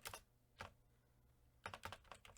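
Computer keyboard keys tapped in short bursts, a few quick clicks, then a pause, then another run of keystrokes, close but quiet.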